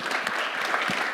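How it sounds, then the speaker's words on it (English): A room of listeners applauds for David after a talk on entrepreneurship and venture capital, with dense, steady clapping throughout at moderate distance. "Can we give David a wonderful round of applause?"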